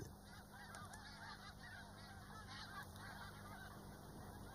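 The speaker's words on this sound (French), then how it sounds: "L'oie des neiges, la première, ressent l'imminence de l'hiver et reprend le chemin du sud." Snow geese honk repeatedly in a dense, distant flock, the overlapping calls forming a steady clamour on the Arctic tundra at summer's end, with no voices present.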